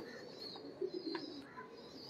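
Pigeons coo softly in a low, murmuring run, close and fairly quiet over a faint background, with a few brief higher chirps scattered through.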